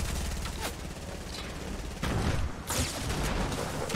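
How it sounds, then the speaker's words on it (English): Grenades going off in a Fortnite match, a steady barrage of blasts and crackling gunfire with heavy bursts about halfway through and again near the end, loud and continuous. "These are all my grenades you're hearing."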